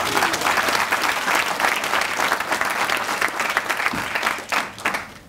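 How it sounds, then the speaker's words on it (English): Audience applause at a lecture on engineering and the future of Africa, a full, steady round of clapping from a large hall crowd that keeps going throughout and tapers slightly near the end. "Maybe we should give him another round of applause for that."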